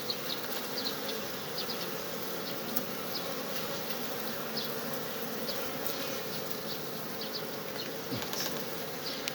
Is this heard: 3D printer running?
no